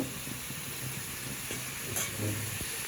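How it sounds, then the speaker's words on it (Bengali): Cauliflower and potatoes frying in a pan, giving a steady close sizzle with soft stirring knocks, no voices. "আলুটাকে একটু বেশি লাল লাল করে ভেজে নিচ্ছি"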